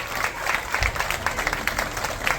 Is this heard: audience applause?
yes